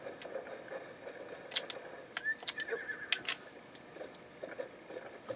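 Horse in The Legend of Zelda: Breath of the Wild gives a faint whinny over soft hoof patter and light ambient noise, quiet and somewhat distant, with no talk.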